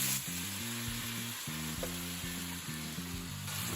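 Tomatoes hit a hot pan for chili, crackling and sizzling loudly and steadily up close, with a quick stir or clatter partway through and no talking.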